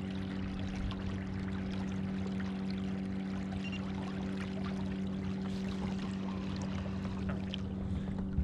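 On the water at Willow Beach, a Jackson Big Rig FD kayak fitted with an Autoboat motor gives a steady, faint motor hum over gentle water sounds, with no talking.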